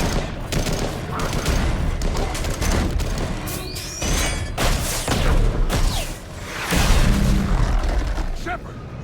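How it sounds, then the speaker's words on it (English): Rapid harpoon gun fire in a Mass Effect style sci-fi video game, a dense fusillade of loud repeated shots and booms running throughout, with voices talking over the battle. "rapid fire those fucking harpoons"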